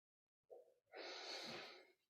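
Deep, even breathing during a yoga session for stiff shoulders and hips: a short soft inhale, a brief pause, then a long, smooth, fairly loud exhale, close and alone.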